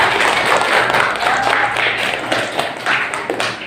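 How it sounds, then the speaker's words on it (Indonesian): Children in a classroom clapping together, a dense, fairly loud burst of hand claps that continues steadily for several seconds with slight unevenness, no talking over it. "Tepuk tangan untuk kita."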